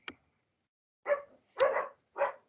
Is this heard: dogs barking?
yes